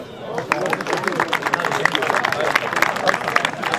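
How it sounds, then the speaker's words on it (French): An audience at a football awards gala applauds a player, a dense crackle of many hands clapping that starts fast and keeps going steadily, with some crowd murmur mixed in. "Je peux l'applaudir."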